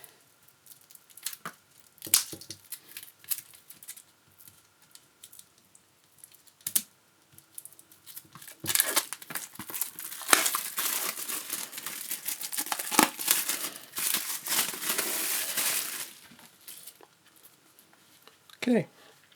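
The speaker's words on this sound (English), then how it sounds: "We open up the packaging." Packaging crinkling and tearing as a hardcover Batman/Teenage Mutant Ninja Turtles II book is unboxed up close, with scattered rustles building to a denser stretch of crackling plastic.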